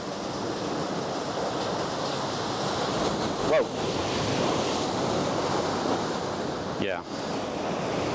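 Big-swell ocean waves surge through a rocky gulch at high tide, a continuous loud wash of surf with wind buffeting the microphone, and a voice briefly exclaims over the roar.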